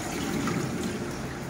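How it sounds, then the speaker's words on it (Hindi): Water pours into a pot of soaked rice for kitchri, a brief continuous splashing gush heard up close and alone. "इसमें ढेर सारा पानी डाल के इसको पकने के लिए रखेंगे"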